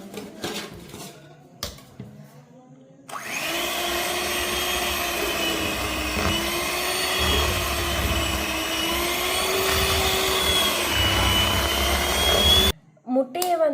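An electric hand mixer beats powdered sugar for a birthday cake batter, a loud steady motor whine running continuously for about ten seconds after a few seconds of kitchen clatter and talk, then cutting off abruptly.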